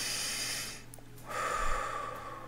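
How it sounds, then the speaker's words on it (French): A group of people breathes together in unison, a broad airy inhale that fades into a short pause, then a fuller shared exhale rising back up, close and fairly loud. "Une respiration tous ensemble."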